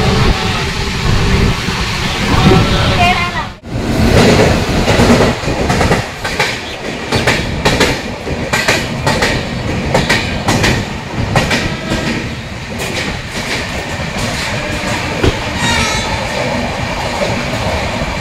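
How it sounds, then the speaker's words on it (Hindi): Rajdhani Express train rushing past on the adjacent track, a loud sustained roar with rapid clickety-clack of wheels over rail joints throughout, heard close from inside a moving carriage. "दोस्तों देखिए हमारी दूसरी तरफ जा रही है राजधानी एक्सप्रेस ट्रेन"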